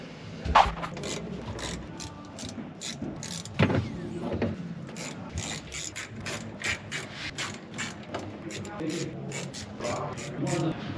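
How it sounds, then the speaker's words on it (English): A ratchet wrench clicks steadily as nuts and washers come off the mounting bolts of a camper on a mid-size Toyota Tacoma, with fast repeated ratcheting bursts and a few louder clanks, fairly close. "what we need to do first is take the nuts and the washers off"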